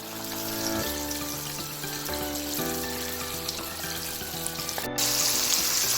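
Flour-coated chicken frying in hot oil on a simmering stove for homemade broasted chicken, a steady close sizzle and crackle through the whole stretch with low tonal hum and no talk.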